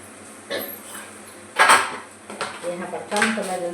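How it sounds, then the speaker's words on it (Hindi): Dishes, pots and cutlery being scrubbed by hand in a home kitchen: scattered clinks and clatters of metal utensils with scraping between them, several sharper knocks, close and moderately loud. "ये है बर्तन, तो मैं जल्दी से बर्तन को मांज लेती हूँ।"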